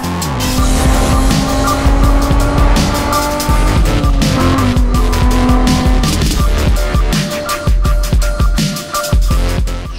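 Cars racing in GTA San Andreas, loud continuous engine roar with repeated squealing tires and skids, dense and unbroken with no talking.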